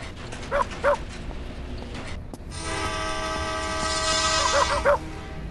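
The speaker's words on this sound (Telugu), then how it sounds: "ఆ కుక్క పేరు అయితే చింటూ, రాడ్ వీలర్." A large Rottweiler barks a couple of times, then a long droning horn-like tone sets in, and the dog barks twice more over it.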